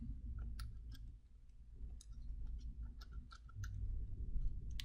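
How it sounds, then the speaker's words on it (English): Calculator keys pressed during a math calculation, a scatter of soft, close clicks and ticks at irregular intervals over a low steady background hum, with no talking. "if you can hear my calculator keys being pressed"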